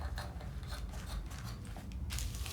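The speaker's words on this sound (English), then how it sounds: "I will go ahead and cut the other sleeve." Scissors cut through Ankara fabric for a kimono gown sleeve, a close, continuous crisp snipping and rustle of cloth, with a louder cut near the end.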